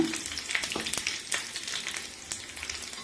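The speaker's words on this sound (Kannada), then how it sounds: "ಎಣ್ಣೆ ಇಟ್ಟಿದ್ದೀನಿ ಒಗ್ಗರಣೆಗೆ. ಸಾಸಿವೆ ಕರಿಬೇವಿನ ಸೊಪ್ಪು ಹಾಕೋಣ." Mustard seeds and curry leaves crackle in hot oil for a tempering for masoppu saaru, a steady close sizzle dotted with sharp popping bursts throughout.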